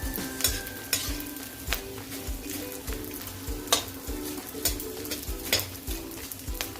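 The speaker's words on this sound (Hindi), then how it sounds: "ये देखिए कितने अच्छे ये भून के हो रहे हैं" Gond (edible gum) fries in a pan, a steady crackling sizzle with repeated sharp scraping clicks as it is stirred briskly, close and moderately loud with no voices.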